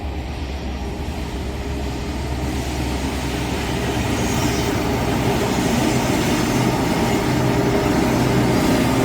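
A BNSF freight train led by a war bonnet locomotive rolls past, a broad, steady rumble that swells slightly louder over the seconds, with faint clatter of railcars and no talking.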